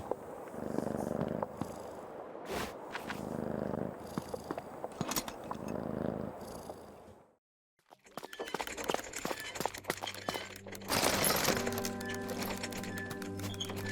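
Soft purring comes from a cat in the video game Creepy Tale 2, a low, close rumble that breaks off into a short silence before busier game sounds with sharp clicks and ringing tones take over.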